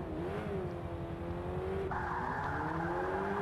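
A Renault Megane engine in the racing game Forza Motorsport 5 drones steadily at moderate revs, its pitch rising slightly as it accelerates, with a faint whine and no voices.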